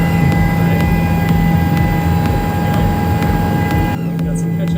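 A steady, loud engine drone with a constant low hum and high whine, continuous throughout, inside a helicopter cabin in flight to JFK airport, New York.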